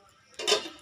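A lid is flipped off a pan of egg toast with a brief close metallic clank and rattle, heard alone and lasting well under a second.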